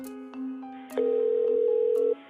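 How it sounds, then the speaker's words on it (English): Telephone line tones during an emergency call: a brief lower tone, then a few clicks, then a steady ringing tone that holds for over a second before cutting off, with no talking. "Desperate to locate Tanya, Tom makes an emergency phone call."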